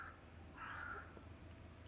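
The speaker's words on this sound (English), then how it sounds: "This bird over here does not stop" A crow caws once, fairly faint and somewhat distant outdoors, a single harsh call over a quiet steady background.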